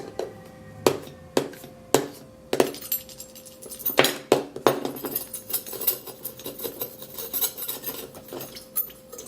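A knife scratches and slices across the surface of an iPhone 7, producing sharp, close clicks and scrapes, sparse at first and then in quicker, denser strokes.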